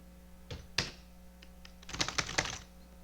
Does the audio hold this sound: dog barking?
no